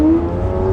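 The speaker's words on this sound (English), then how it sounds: "revving that car up though" A car engine hums at a loud, steady pitch that rises slightly, giving a brief, close rev with a droning tone and no voices over it.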